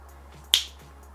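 A single sharp finger snap during a card magic trick, crisp and close, standing alone against a quiet background hum.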